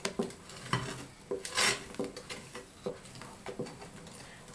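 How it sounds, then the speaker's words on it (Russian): A utensil stirs an egg mixture into sponge dough for an Easter kulich in a bowl, scraping and clinking against the sides in a steady close rhythm. "Эту массу, яичную массу, я добавлю к опаре. Это все хорошенько я перемешиваю."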